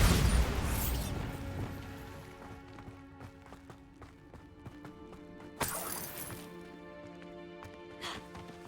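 Bombarda spells in Hogwarts Legacy blast and break things: a loud crashing burst opens the moment, followed by two more sharp blasts later on, with debris-like clatter and a steady game backdrop in between.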